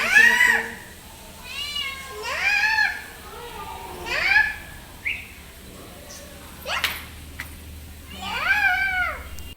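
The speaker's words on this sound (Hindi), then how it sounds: "पर बिल्ली का आना थोड़ा सा अलग था आज।" A house cat meows several times in short, rising-and-falling cries spaced a second or two apart, fairly close, with a voice and light household noise around it.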